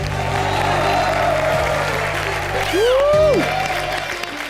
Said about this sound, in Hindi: जोरदार तालियां हो जाए शकील जी और श्रुति के लिए